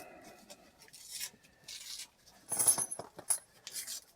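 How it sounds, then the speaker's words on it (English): A roll of silver Washington quarters torn open by hand: crinkling paper wrapper tears followed by bursts of coins clinking and sliding together, close and fairly quiet, in uneven clusters. "I'm just going to tear into it."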